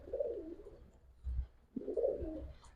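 A female Pakistani high flyer pigeon, a teddy kamagar with red neck, coos twice in soft, low rolling phrases, close and quiet, with light handling thumps between and no talk.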